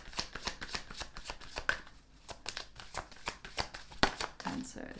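Goddess Oracle cards shuffled close by in a steady run of quick papery riffles and flicks, with a soft voice talking over parts of it.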